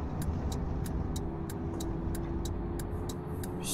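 A bus in Bus Driver Simulator, driving the outskirts of Murom, Russia, pulls away with a steady low engine rumble and a regular, evenly spaced clicking ticking above it throughout.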